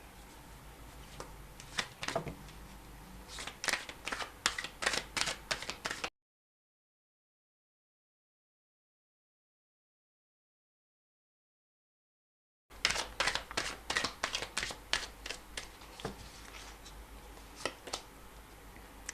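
Tarot cards shuffled and drawn, quiet crisp riffling bursts and light card snaps in quick clusters, pausing into total silence midway before the shuffling resumes, close and soft with no voices.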